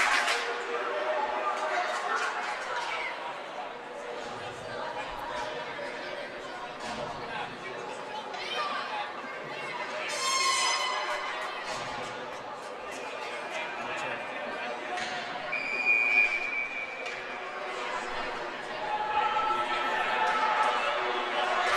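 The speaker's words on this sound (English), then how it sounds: "now we hear the crowd" Crowd at a high school varsity hockey game between St. Anthony's and Kings Park Commack, a lively rink crowd of murmuring chatter, cheers and whistles rising and falling, with a commentator speaking over it throughout.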